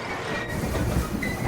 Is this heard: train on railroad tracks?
yes